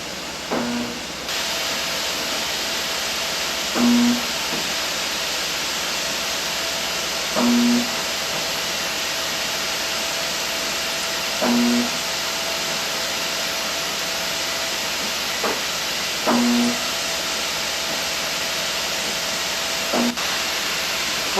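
Compressed air hisses steadily and loudly from Tite-Spot spot-welding equipment for the whole stretch, with brief welding bursts cutting in about every four seconds; no one speaks.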